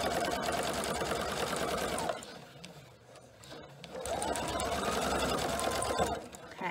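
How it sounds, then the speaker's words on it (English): Sewing machine stitching across the top of an embroidered quilted pocket on a tote bag, a loud close motor whir running for two seconds, pausing briefly, then resuming steadily before stopping. "I'm just going to continue sewing. So now I'm going right across the top of that embroidered pocket."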